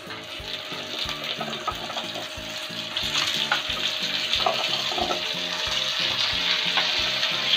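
Spices and chopped taro (arbi) frying in a pan. A close, steady sizzle grows louder partway through, over a regular pulsing hum underneath, with no one speaking.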